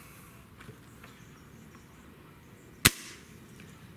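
A single Gamo Hunter Extreme Pro air rifle fires once: a sharp, loud crack with a brief tail, standing out against quiet background hiss.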